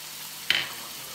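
Carrots and crushed garlic hit hot oil with softened onions in a pot. A sharp, brief sizzle flares up once and then fades to a quiet hiss.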